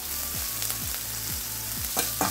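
Onion and garlic sautéing in a pan after ginger, a soft steady sizzle under a regular low thumping pulse, with a couple of sharper scraping stirs near the end.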